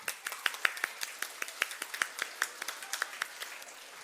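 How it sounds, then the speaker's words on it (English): A small group claps steadily in a school science show, with fairly faint, evenly spaced hand claps over about four seconds and no voices. "Give a round of applause here."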